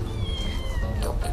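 A cat meows once, close by and clear: a short, drawn-out call with a slight rise at the end, heard over faint background murmur at an outdoor café in Batam.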